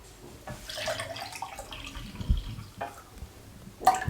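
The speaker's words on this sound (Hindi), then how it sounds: "1/2 गिलास पानी का शामिल कर देंगे।" Half a glass of water is poured into a pressure cooker holding mutton, turmeric and salt: a faint, soft splashing trickle with a few brief drips.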